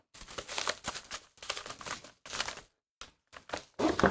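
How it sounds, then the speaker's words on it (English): Bubble wrap being pulled and crinkled off a Redragon K556 Devarajas mechanical keyboard, bursts of close plastic rustling and crackling separated by short pauses. "We got the bubble wrap out of there."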